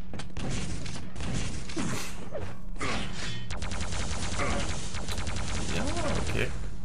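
Railgun shots and weapon fire in a Quake Live match, sharp cracks and bursts repeating irregularly over busy in-game effects and pickup sounds, loud and close throughout.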